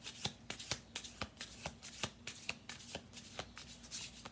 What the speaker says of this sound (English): Let me do one more shuffle through